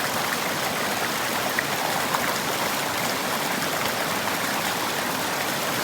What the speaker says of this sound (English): I'm standing right in the middle of the waterfall, essentially.